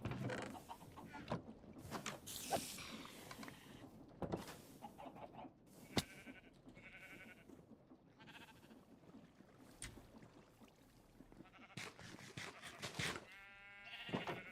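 Sheep bleating in Minecraft with the Create mod, several short bleats scattered across the stretch at moderate loudness against a quiet background, with no talking.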